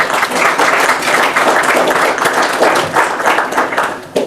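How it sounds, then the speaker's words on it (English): An audience at a legislative breakfast claps steadily, a dense wash of applause that stays loud throughout. "Let's give him a round of applause."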